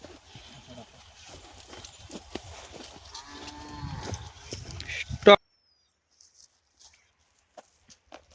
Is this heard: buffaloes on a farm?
yes